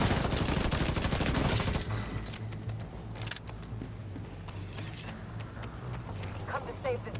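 Sustained gunfire in the shooter game The Division 2, a dense rapid fusillade filling the first two seconds, then sparser shots and mechanical clatter continuing under speech.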